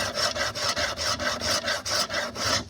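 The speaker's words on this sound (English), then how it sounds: "for just removing that finish, and you can hear it just comes right off." Old finish is scraped off wood with the edge of a cheap stamped wrench, heard as steady, evenly spaced rasping strokes, about eight passes, close and fairly loud with no voices.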